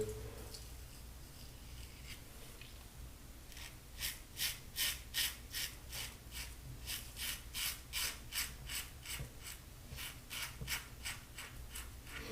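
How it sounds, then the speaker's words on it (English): An electric razor shaves two days of stubble up close, its rhythmic rasping strokes repeating steadily after a quieter start. "Now this razor is also loud"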